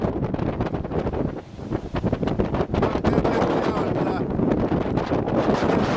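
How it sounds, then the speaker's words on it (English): Strong coastal wind buffets the microphone in a constant roar at the Twelve Apostles, Victoria, Australia, with faint surf beneath and a voice briefly audible through the gusts. "Pretty windy here at the moment"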